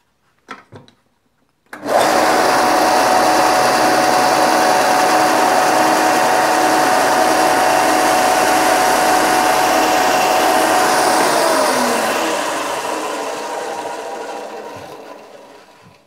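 A belt and disc sander combo switches on with a sharp jump to full speed, runs loud and steady with a whining motor hum for about ten seconds, then is cut off and winds down gradually to silence.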